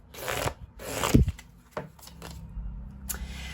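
Tarot cards handled and shuffled to draw three cards, brisk close riffling and flicking bursts, loudest near the start, with softer card slides and taps following.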